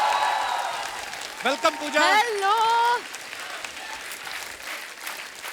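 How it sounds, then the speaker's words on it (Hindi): Studio audience applause at a Sikandar film promotion with Salman and Pooja, a steady crackling wash that swells under welcoming speech, then continues faintly to the end. "जोरदार तालियां।"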